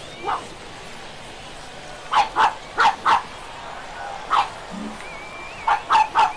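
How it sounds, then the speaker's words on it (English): A small dog barks in short sharp bursts, single yips and then quick pairs and triples, close and clear over a quiet background at a spring training baseball game. "Got my doggy here."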